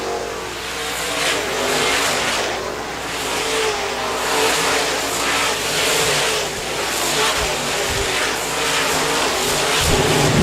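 Modified race cars roaring around the Park Jefferson Speedway oval during a Memorial Day race, a loud continuous engine drone that swells as cars pass, with crowd and track ambience behind it.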